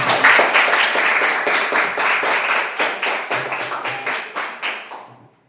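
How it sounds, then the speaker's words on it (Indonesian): A small group claps in rhythmic unison, the beats gradually spacing out and fading before stopping. "Tepuk tangan dulu buat"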